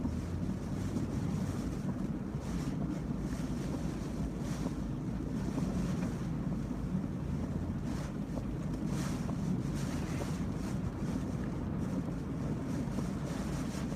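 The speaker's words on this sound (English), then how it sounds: "Whoa, getting hit hard with very high winds here." Steady roaring wind buffets the microphone with a constant low rumble and hiss, gusting throughout without a break; damaging wind gusts of about 55 to 65 mph in Key Largo.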